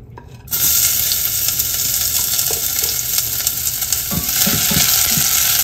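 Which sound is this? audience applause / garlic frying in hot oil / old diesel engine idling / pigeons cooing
garlic frying in hot oil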